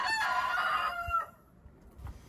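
A rooster crows once inside a chicken coop, a loud, close call lasting about a second, followed by a quieter low cluck or two.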